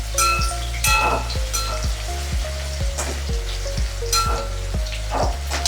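Crushed garlic fries in a pan with a steady, close sizzle. Repeated rhythmic scraping taps of a spoon stirring against the pan run on top of it.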